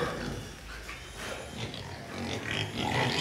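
Wild pigs on a Vietnamese farm giving low, rough grunts that run close and continuous over the short stretch, with no one talking.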